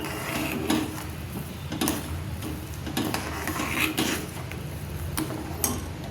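A spoon scrapes and rubs around a pan as sugar is stirred into hot milk over low heat, with soft repeated scraping strokes and light metallic contacts, steady and close, with no talking.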